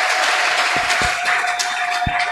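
A French-speaking church congregation bursts into loud, close applause, a thick steady patter of clapping with a few sharper claps standing out.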